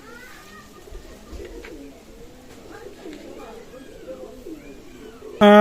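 Pakistani teddy pigeons coo softly in a steady, low rolling rhythm at close range, with a sudden loud burst at the very end.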